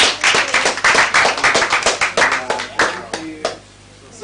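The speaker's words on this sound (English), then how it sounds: "Clap for me now." Hands clapping in a quick, steady rhythm of sharp claps, fairly close, slowing and thinning out toward the end.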